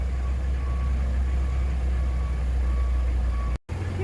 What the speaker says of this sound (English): Put it on the old truck and away it goes to the house.